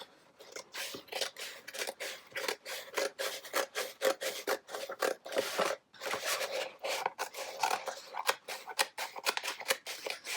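Scissors trimming a sheet of stencil vinyl, producing a quick run of close, crisp snips and rustling cuts with brief pauses and no speech.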